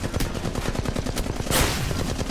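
Rapid automatic gunfire in the mobile battle royale game Apex Legends Mobile, a dense close burst of repeated shots followed by a louder blast near the end, with no talk over it.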